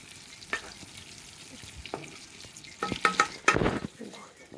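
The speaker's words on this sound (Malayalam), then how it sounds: "കട്ട് ചെയ്ത് കഴിഞ്ഞ് ഇത് ഫ്രൈ ചെയ്യണം അങ്ങനെ അങ്ങനെ ഇത് ഫ്രൈ ചെയ്യുകയാണ്" Round-cut pieces of gram flour dough fry in a pan, a low sizzle broken by several stirring scrapes and clatters that grow louder toward the end, with no speech.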